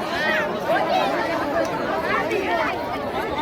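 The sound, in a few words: crowd of people at a small railway station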